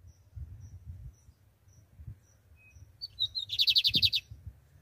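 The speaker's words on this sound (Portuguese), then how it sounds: "pendurei aqui, ó, o bigodinho" A bigodinho (Lined Seedeater) sings a quick, rapid trill of bright chirps near the end, after faint crickets and low background hum.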